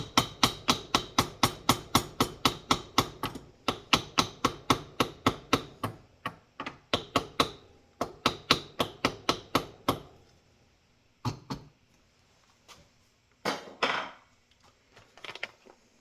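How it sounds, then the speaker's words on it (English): Plastic rubber mallet tapping an 18-inch FN CHF 5.56 barrel into a Geissele AR-15 upper, a fast close run of sharp knocks in bursts, then a few scattered taps and quieter handling. "I'll take a little plastic rubber mallet and have to tap it on"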